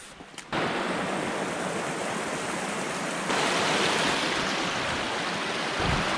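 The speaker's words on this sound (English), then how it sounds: "we're at the base of these waterfalls that you can kind of see from the road" Waterfalls on Wissler Run roar steadily at their base, a loud, continuous rush of falling water with no voices, swelling louder about halfway through.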